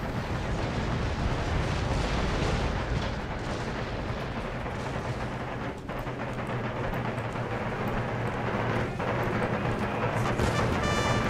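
Artillery rapid-firing quicklime shot in the battle game Empire: Total War, a dense, continuous rumble of booming cannon fire and battle noise that stays loud for the whole stretch.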